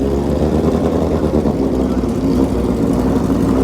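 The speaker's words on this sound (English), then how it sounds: "This is a stretched Kawasaki ZX14, and it will be taking on a classic" A stretched Kawasaki ZX14 drag bike and a classic Kawasaki KZ at a bracket drag race give a steady, loud, continuous engine roar with rough low rumble, sustained throughout without a break.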